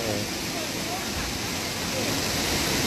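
Valley stream water flowing steadily in a summer mountain gorge, a continuous broadband rush and babble heard close and unbroken throughout, with no clear voices.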